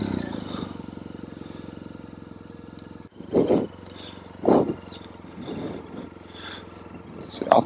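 A BMW motorcycle's engine runs at a steady low drone on wet roads at a club riding event, with louder bursts near 3.4, 4.5 and 7.5 seconds that may be a throttle blip or speech. A voice talks briefly over it.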